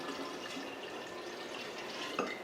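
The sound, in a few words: sugar water poured into water kefir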